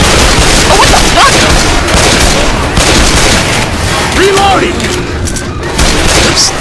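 Dense, continuous gunfire and booming explosions from the game Blood Tracks fill the scene loudly, with a player's excited voice talking over the shooting.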